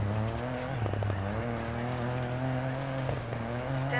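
Rally car in the DiRT 4 racing game, a steady loud engine drone with shifting revs and brief tire noise as it brakes and corners, running continuously without talk.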